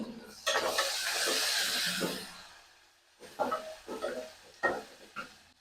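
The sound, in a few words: garlic and green chillies crackling as they fry in a pan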